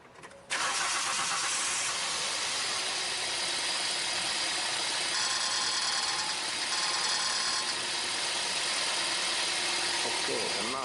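A car engine cranks and catches, then idles steadily and loudly close by for the rest of the span with a rough, even drone.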